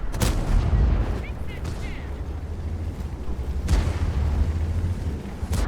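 Tank cannons fire in a World of Tanks battle with a couple of sharp, heavy booms, one early and one midway, over a constant rumbling engine drone and low in-game background noise.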